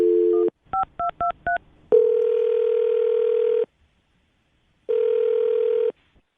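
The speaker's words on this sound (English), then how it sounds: "we're going to call Taryn right now and see if we can get her on the phone" A telephone call being placed: a steady dial tone, then a quick run of five keypad tones, then two long ringing tones separated by a pause. All are clear and close, with no talking.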